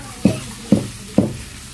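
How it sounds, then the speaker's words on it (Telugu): Curry leaves fry in a pan while making a drumstick-leaf and curry-leaf spice powder at an Anganwadi centre, with three evenly spaced stirring scrapes over a soft, steady sizzle, close and moderately loud. "ఈలోపు కరివేపాకు వేయించుకుంటూ ఉన్నాము"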